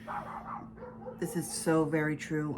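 A dog barks and yips in short bursts close by, cutting in over and after someone speaking indoors.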